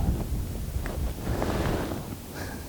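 Heavy wind buffets the microphone out on a lake on a cold Florida fishing day, a loud continuous rumbling roar with gusty swells and no talk.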